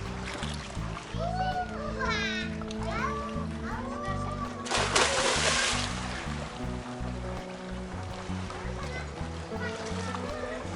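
A child jumps into open water in flooded Halfeti, Turkey, a broad splash rising partway through amid steady outdoor noise, with children's voices and adult talk around it.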